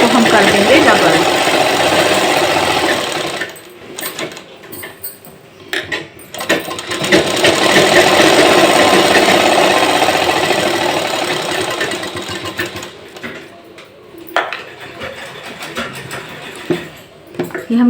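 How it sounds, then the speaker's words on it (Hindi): A sewing machine double-stitches a seam on a large 42-inch hip pant, its motor whirring and clattering in long runs broken by short pauses, loud and close, with a voice talking at times. "तो यहाँ पे हम सिलाई लगा लेते हैं और इस सिलाई को हम कर देंगे डबल।"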